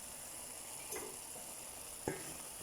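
Moussaka ingredients fry gently in a pan, a faint, steady hiss with two brief knocks of a utensil against the pan, quiet and close, with no talk.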